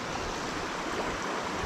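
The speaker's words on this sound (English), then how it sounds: "Peabody Creek comes down off of the foothills" Creek water flowing under a footbridge on Peabody Creek Trail in Olympic National Park, coming down off the foothills in December, gives a steady, close, unbroken rush throughout with no voices.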